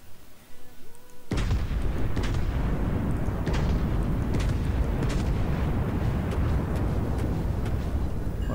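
Heavy naval guns firing in the warship battle game World of Warships, a sudden loud boom followed by a sustained thunderous roar and repeated distant blasts, with faint speech before the salvo.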